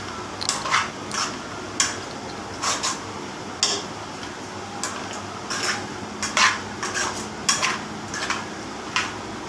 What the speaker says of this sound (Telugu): అన్నీ కలిసేలా కలపాలండి ఒక 5 నిమిషాల వరకు.